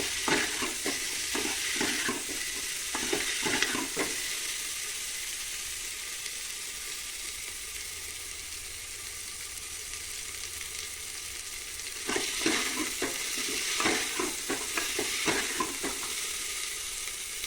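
Bitter gourd sautéing in a pan for a traditional kulambu, with steady frying sizzle throughout and bursts of stirring scrapes near the start and again toward the end; no talking.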